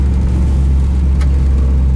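A 1964 Chevrolet Impala SS engine idling on a cold start at about 1,000 RPM gives a steady, loud low rumble with an even pulse throughout, close by, with no other sounds.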